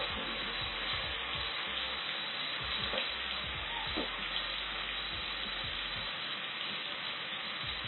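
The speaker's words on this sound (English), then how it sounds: "make sure you fry your onions" Onions fry with garlic and ginger in a pan for beef pilau, producing a continuous dense hiss and crackle with no talk.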